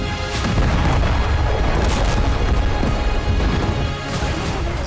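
A cargo ship hit by a ballistic missile at sea explodes in a heavy, continuous roaring blast with rumbling booms and crackling bursts, loud and sustained throughout.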